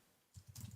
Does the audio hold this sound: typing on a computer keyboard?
yes